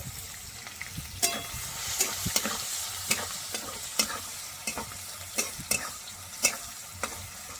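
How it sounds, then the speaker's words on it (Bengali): Chopped onion frying in oil with black cumin and a dried red chilli for a fish and ridge gourd dish, a soft steady sizzle broken by a dozen sharp spatula scrapes and taps as it is stirred, with no talking. "পেঁয়াজটা একটু ভালো করে ভেজে নেব"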